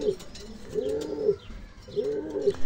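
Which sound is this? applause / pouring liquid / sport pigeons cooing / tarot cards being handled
sport pigeons cooing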